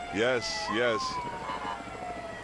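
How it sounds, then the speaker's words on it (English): A fire rescue vehicle siren wails in a slow falling sweep in the background at a 2023 MLK Day event while someone briefly speaks over it. "They put on their show with their lights and sirens."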